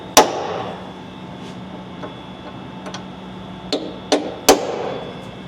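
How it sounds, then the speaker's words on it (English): Sharp metallic hammer strikes ring out one at a time as a transfer punch is driven into the frame holes of a 1994-2002 Dodge Ram 2500/3500, several sharp hits with irregular pauses between them over a faint background hum. "I'm going to go ahead and start transfer punching all my holes"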